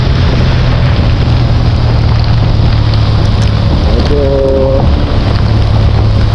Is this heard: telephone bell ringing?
no